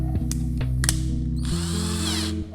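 Cordless drill chuck ratcheting tight around a rifle barrel cleaning rod, a few clicking bursts and brief whirs followed by a short higher spin, close and loud.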